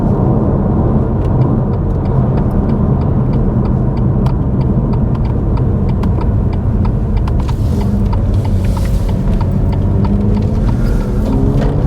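A BMW M2 Competition cruises along the A894 Highland road, its engine note droning loud and steady from inside the car, with repeated light ticks and road rumble throughout.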